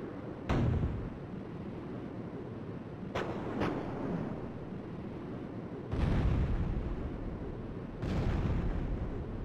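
Gunfire hits the lifeboats in Skies of Arcadia Legends as four heavy, booming shots or blasts ring out at irregular intervals over a low, steady rumble, with no voices.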